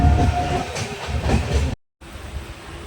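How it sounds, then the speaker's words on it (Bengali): An overnight passenger train runs steadily just after departure, with a loud continuous rumble and rattle of the carriage. The sound cuts out briefly to silence before the rumble resumes. "ঠিক 8:30তেই ট্রেনটা ছেড়েছে।"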